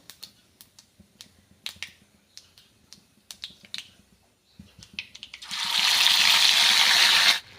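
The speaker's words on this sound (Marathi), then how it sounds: "तर तेल छान गरम झालं आहे यामध्ये आता मोहरी टाकली आहे थोडीशी जिरी" Mustard seeds and cumin splutter in hot oil with sharp, scattered close pops for several seconds, then a loud, steady sizzle takes over.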